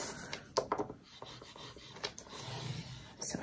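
Paper being scored on a scoring board for a mini album folio, heard as soft, close rubbing and scraping strokes with a few sharper scratches in a quiet room, with no talk.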